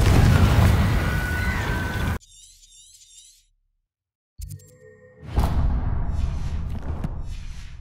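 A Confringo fire spell in Hogwarts Legacy, heard as a loud whooshing blast followed by a brief near-silence, then a second bursting impact with crackling debris, and no voice over it.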